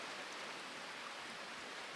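Rain falls all day, a faint even hiss of steady drops with no distinct patter or voices, heard briefly and unchanging.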